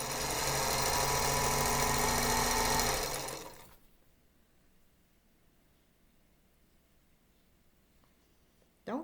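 A sewing machine stitches red thread onto small pieces of green fabric for a spinning star quilt block, running in a steady, close, continuous hum for a few seconds before it stops and the room goes quiet.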